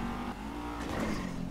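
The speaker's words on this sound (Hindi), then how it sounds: "वो भाई उड़ा रहा है गाड़ी पागल" Car in GTA V driven fast and recklessly, a steady engine drone with revving and tonal whine, near and loud throughout without a break.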